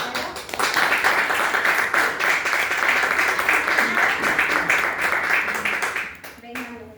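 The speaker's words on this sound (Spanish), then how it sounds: "retorno el fuerte aplauso para los chicos de tercero" Loud applause from an audience for third-grade schoolchildren, dense steady clapping for about six seconds before it fades and a voice begins speaking.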